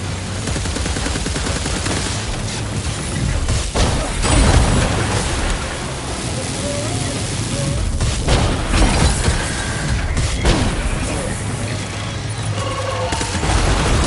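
Dense gunfire and explosions from the video game Death Stranding 2, loud sustained bursts and booms running throughout with a low rumble underneath.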